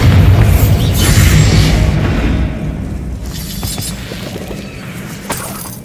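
Bombarda blasting spell in Hogwarts Legacy: a heavy booming explosion right at the start, loud and close, rumbling debris and crackle fading over several seconds.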